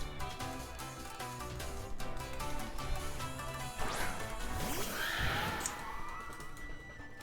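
The ice horse Pokemon's shrill, whinnying cry in Pokemon Scarlet/Violet rises over busy battle music, with sweeping tones and a crashing hit partway through.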